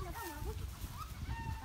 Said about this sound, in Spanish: Ay, la gallina.